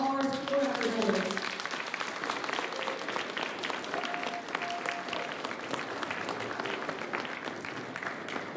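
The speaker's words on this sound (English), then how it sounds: "Let's give one more big round of applause for all our school record holders." Sustained crowd applause for school record holders at an awards ceremony, dense continuous clapping throughout with a voice briefly audible at the opening.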